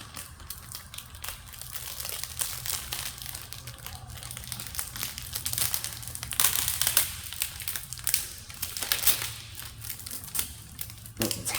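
Plastic protective sheeting peeled off and handled during a Chinese body kit upgrade on a Cadillac ATS-V, crinkling and crunching continuously and close by, with busier stretches in the middle and toward the end, no talking.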